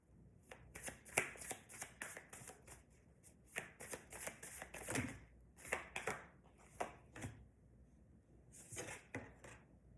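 A deck of tarot cards being shuffled, with quick riffling bursts and soft slaps repeating in uneven clusters, close and fairly quiet with no talking.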